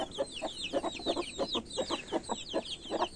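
Village hens with small and medium-sized chicks cluck in a quick, even series of short calls, with thin high chick peeps layered over them, close by and with no talking.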